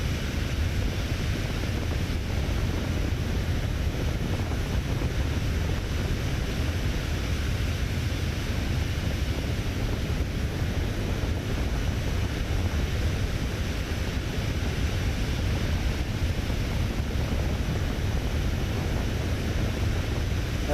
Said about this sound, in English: this sound here basically adds the wind from the engines when you're right in the path of it